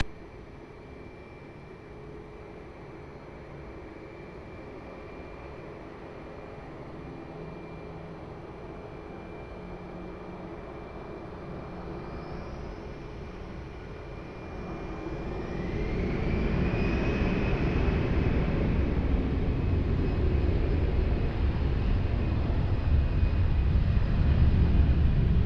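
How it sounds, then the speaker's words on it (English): An Airbus A320 rolls for takeoff on runway 20 at Lisbon Airport. A distant, faint jet whine rises into a louder, broad roar that builds about midway and holds through the end. "Airbus 320 rolling runway 20"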